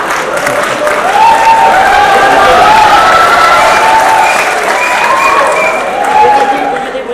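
Sustained audience applause at a political speech, a dense steady wash of many hands clapping that holds at even loudness for about seven seconds, with faint voices mixed into the crowd.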